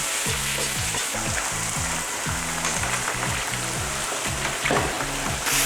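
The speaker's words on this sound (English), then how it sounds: "After our oil hits 375 degrees, we're gonna throw in some steak fries." Steak fries dropped into 375-degree oil for a Peruvian saltado, a continuous loud bubbling sizzle with repeated clattering tones over it, no talk.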